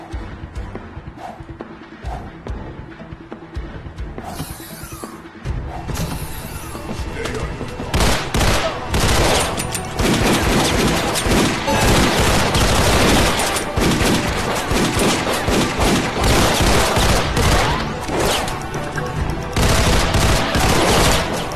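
Dense bursts of gunfire in the VR bullet-time wave shooter Dead Second, played on a Pico 4 headset, loud and continuous through most of the stretch after a quieter opening with a few scattered shots.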